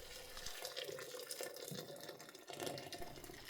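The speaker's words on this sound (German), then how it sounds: "Jetzt kommt 1 Liter heißes Wasser zu den Mandeln dazu." Hot water pours steadily into a blender jug of almonds with a splashing, gurgling rush, fairly quiet and continuous throughout.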